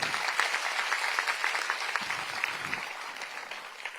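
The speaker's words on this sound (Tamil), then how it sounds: "அவர்களுக்கு நம்ம அனைவரும் சார்பாக பாராட்டுகளை கைத்தட்டுகளை தெரிவிப்போம்" An audience at an award ceremony for self-help groups applauds, giving steady, fairly distant clapping that holds throughout at a modest level.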